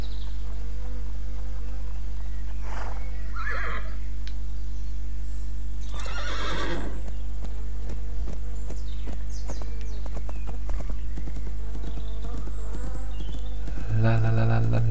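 A horse whinnies from a My Little Riding Champion riding game, with a clear neigh burst in the middle and a few lighter hoof and rustling sounds over a steady game hum, no talk.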